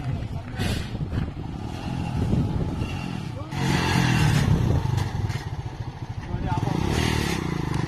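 The engine of a modified TVS Star City motorcycle runs steadily nearby with a throbbing rumble and occasional rises in revs. Voices talk over it throughout.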